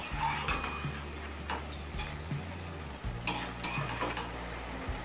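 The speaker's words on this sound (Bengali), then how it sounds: "শাকটা এবার সব কিছুর সাথে মিশিয়ে নেব।" Mustard greens and mixed vegetables are stirred in a pan, with a spoon scraping and clinking against the metal over a soft sizzle, in several irregular strokes, no talk.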